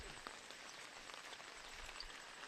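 Steady rain falls on an outdoor surface in a rural setting, a soft, even wash of patter that carries on without pause and without voices.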